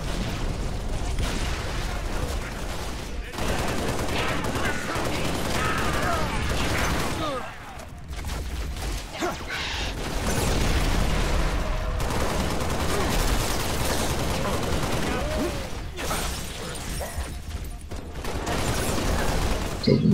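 Grenade explosions and gunfire in the Halo Reach solo campaign, dense rumbling blasts and rattling shots running continuously throughout, with talk mixed in.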